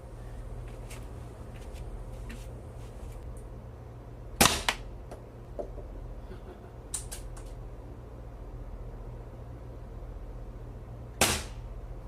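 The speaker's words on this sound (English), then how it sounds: "I will shoot both the other pellets at the gel with the 2240" A Crosman 2240 air pistol fires two pellets into ballistic gel, two sharp close cracks several seconds apart over a steady low background hum, with small clicks and handling noises between shots.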